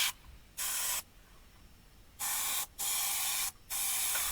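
An airbrush sprays neon paint onto an RC body shell in four bursts of bright, even hiss, the first two apart and the last ones closer together, with quiet gaps between them.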